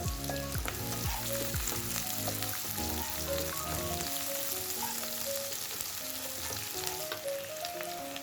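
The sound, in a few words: frying green chillies in a pan for dried seer fish curry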